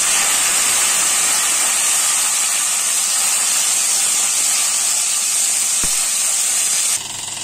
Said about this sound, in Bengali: উচ্ছেটা আমি ভেজে নিচ্ছি।